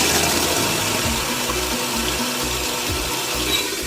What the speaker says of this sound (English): Now I'm at the sink and I'm going to scrub off the glue that didn't dry, the stuff on the edges.